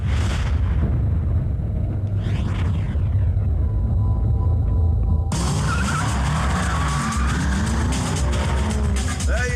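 Loud, roaring supercar engine noise fills the whole stretch, with a sharp change partway through as a second, higher-pitched engine note takes over amid skidding rumble; a 5.4-litre V8 against a 6-litre V12.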